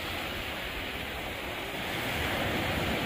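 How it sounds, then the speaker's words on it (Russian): Sea waves break steadily on the sandy beach at Vityazevo, Anapa, a continuous broad roaring surf wash that swells slightly louder toward the end, with no voices. "За волной находит волна"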